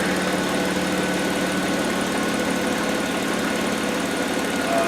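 A Hyundai Tucson that will not complete a drive cycle, its engine running at a steady idle, a loud, continuous close hum and rattle with no talk over it.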